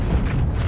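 A deep, rumbling explosion from the video game Heroes & Generals: a short, heavy low-end boom that stays loud and dense for under a second.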